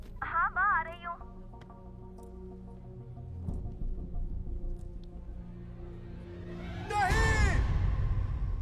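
A man lets out a loud yell near the end after a stretch of quieter vocal sounds and background noise in a Hindi-dubbed film scene.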